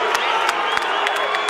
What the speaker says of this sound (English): The crowd is booing. Some of them, other ones, the supporters of Chavez are cheering.